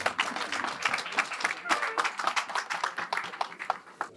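A church congregation at a Sunday service claps hard and fast, the dense, uneven applause filling the room with some voices mixed into the crowd noise throughout.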